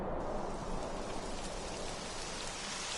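Steady rain falls in the Dragon Quest XI video game, a dense, even hiss of drops that holds constant throughout with no voices over it.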